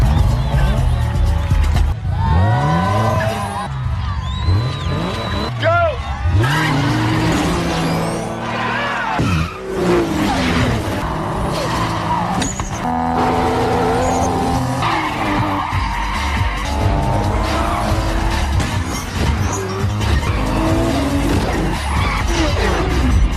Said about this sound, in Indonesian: Karena gengsi, 3 pembalap lainnya langsung mengiyakan tawaran Brian dan mereka siap untuk memulai balapan.